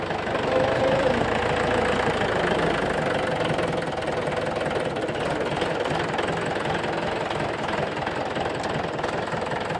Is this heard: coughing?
no